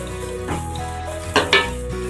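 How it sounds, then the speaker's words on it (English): Onions browning in a frying pan for shahi chicken korma give a steady low sizzle, broken by a couple of sharper clattering stirs near the end. "I'm going to brown the onions. Nice golden color."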